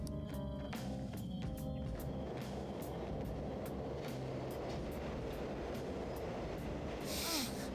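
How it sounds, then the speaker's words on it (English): A train in the video game Persona 5 Royal runs along with a steady rumbling roar and clicking rail rhythm, faint and continuous, with no talking. "They catch a train."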